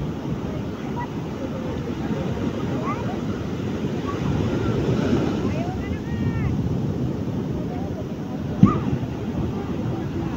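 Ocean waves surge and wash continuously under heavy wind buffeting on the microphone, with a low rumble like a boat engine and a brief louder knock.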